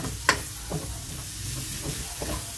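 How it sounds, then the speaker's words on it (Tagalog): Garlic sautéing in a pan for chopsuey gives a quiet, steady sizzle, with a sharp clink near the start and a few soft stirring scrapes. "Antayin natin na magluto yung bawang"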